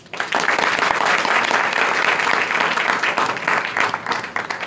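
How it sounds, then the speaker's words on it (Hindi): Classroom applause at an intermediate college in Azamgarh, a dense, steady patter of many hands clapping close by, swelling quickly and holding loud for several seconds before easing slightly at the end. "तालियां बजनी चाहिए भाई"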